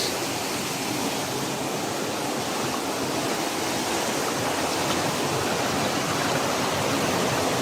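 A powerful water current roars steadily nearby, a constant, full rushing wash like a stream or falls, with no talking over it.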